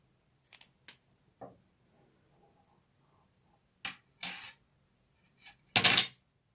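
Scissors snipping knitting yarn after finishing a cardigan neckline, a handful of faint, sharp clicks and short snips scattered among quiet handling sounds, ending in a louder cut.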